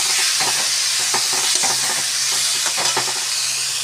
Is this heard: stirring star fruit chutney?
yes